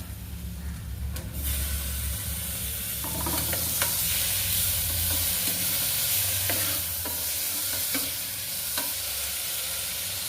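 Steady sizzling of onions and tomato frying in a pan with occasional stirring scrapes, loud and close, no talking.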